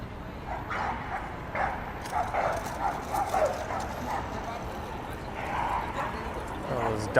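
Dogs barking at one another outdoors on a Toronto evening street, repeated barks and yips heard at some distance over steady street noise, with a person talking throughout.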